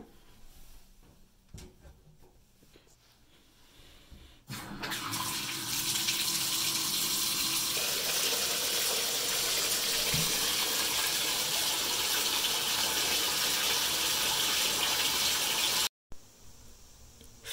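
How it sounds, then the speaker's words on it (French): Water gushes from a tap into a bathtub for a home bath, a loud steady rushing fill that starts abruptly after a few quiet seconds of small knocks and cuts off briefly near the end. "Je vais aller faire couler mon bain."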